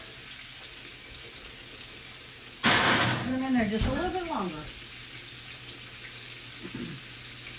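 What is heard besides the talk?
water being added while cooking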